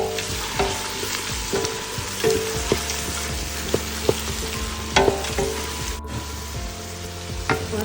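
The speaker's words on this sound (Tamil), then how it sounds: "கருவேப்பிலை, கொத்தமல்லி, புதினா சேர்த்து நம்ம இதை அழகாக வதக்கணும்" Curry leaves, coriander, mint and green chili sauté in hot oil with a steady close sizzle, punctuated by sharp clinks and scrapes of a utensil stirring the pan. No one speaks.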